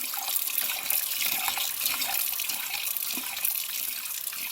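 Tap water runs steadily into a bowl in a kitchen sink for washing rice, a continuous bright splashing hiss heard close up with no talking.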